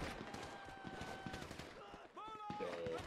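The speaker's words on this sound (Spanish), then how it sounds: "Pero qué de tiros, ¿no?" Gunfire in the GTA 5 video game during a zombie survival session, rapid bursts of shots crackling under a constant dense background, fairly distant and continuous, with a few tonal game sounds near the end.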